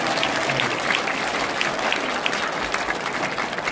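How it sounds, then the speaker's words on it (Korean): An audience at a lecture gives steady, dense applause, many hands clapping together close by without a break and at even volume. "박수 한번 주십니다."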